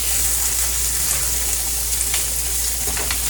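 Sausage frying in a pan for a home-cooked sausage and cabbage meal, giving a steady, dense close-up sizzle with occasional crackles and pops and no talking.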